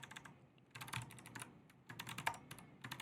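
Rapid, uneven bursts of keystrokes on a computer keyboard while coding in Vim, close and fairly quiet, with brief pauses between flurries of typing.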